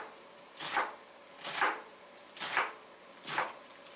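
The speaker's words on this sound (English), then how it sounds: "I'm just shaving it." A knife shaves a cabbage thin in four even, rhythmic strokes, each a close, crisp scraping swipe separated by brief pauses.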